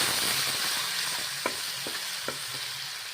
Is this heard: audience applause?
no